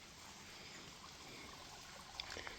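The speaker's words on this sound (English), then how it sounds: "Really incredibly rocky stream." Rocky stream flowing beside an Appalachian Trail campsite, a faint steady rush and trickle of water running over stones, with a few brief higher splashes near the end.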